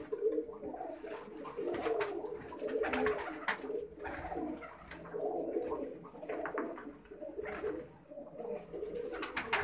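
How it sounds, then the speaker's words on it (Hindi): Soft, low pigeon coos repeat in slow rolling phrases, close by, with a faint background hum. "अब ये टैडी कबूतर है भाई"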